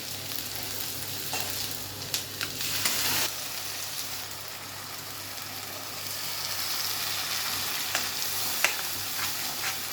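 A thick masala paste for paneer butter masala bubbling and sizzling in a pan, with a few scrapes of stirring, a steady moderate crackle and no speech.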